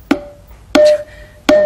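Simmons electronic drum kit tom-tom pad on program 14 sounds three evenly spaced, resonant electronic hits with a ringing tonal decay, close and alone.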